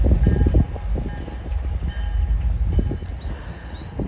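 A CSX freight train with a caboose rolling through a small CSX and Norfolk Southern interchange yard: a loud, close, heavy rumble with rhythmic wheel clatter throughout.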